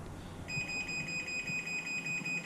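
A smart garage door opener's safety warning tone repeats quickly and evenly, high-pitched and fairly close, over a low hum of machinery.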